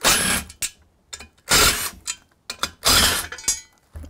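A screw gun takes bolts off an iron bowl burner in a workshop, with several separate bursts of close, rattling whirr and clicking mechanism, cut by short pauses and small metallic clinks.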